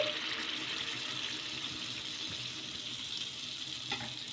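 Steady broadband sizzle of a ladle of corn batter frying in hot oil on a pan, continuous and fairly soft throughout, with no voices.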